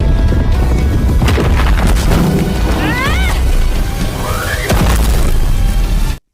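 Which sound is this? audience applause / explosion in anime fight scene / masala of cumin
explosion in anime fight scene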